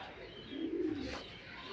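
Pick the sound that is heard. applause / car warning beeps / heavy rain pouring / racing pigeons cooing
racing pigeons cooing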